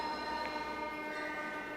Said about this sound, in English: All the metro trains here are from Russia, made in Russia